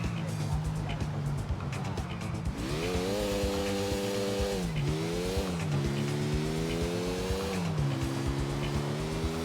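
In Grand Theft Auto 4, a motorcycle engine drones loudly and steadily up close, its pitch rising and dipping as the bike accelerates and eases off, with tire noise mixed in.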